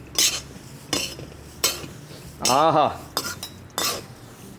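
Roasted jowar, masala and dry fruits are mixed in a metal pan, producing repeated loud scraping clatters of a spoon against the pan at a steady rhythm, close by, with a short exclamation from a voice partway through.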